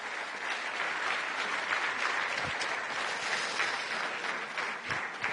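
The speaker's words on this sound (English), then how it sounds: "This is your applause." Audience applause at a strategic forum debate on Europe's future in Bled, a continuous, moderately distant wash of clapping from a large crowd, steady and unbroken.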